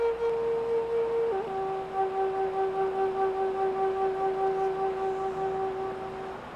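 A Native American flute plays one long, breathy sustained note with a brief dip in pitch early on, clear and alone over soft background noise.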